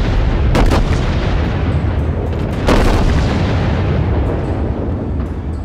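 Battleship main guns firing shells in World of Warships, heard as loud, heavy booming salvos with sharp cracks at the start and again midway, over a dense rumbling roar, with no talking.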